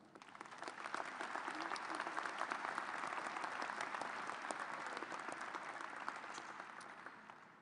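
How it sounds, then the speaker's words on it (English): Applause fills a hall at a graduate school commencement ceremony, rising at the start, holding as a broad crowd of clapping hands, then gently tapering off. "Please join me in recognizing these individuals with your applause."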